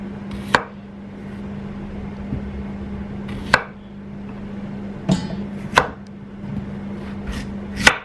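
A potato being cut into big rustic chunks on a board: five or six sharp, close knife chops spaced irregularly over a steady low background hum, with no talking.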